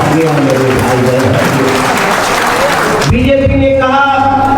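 A large crowd at a BJP political rally breaks into loud, sustained applause and cheering, with a voice amplified over a PA system as the clapping dies down.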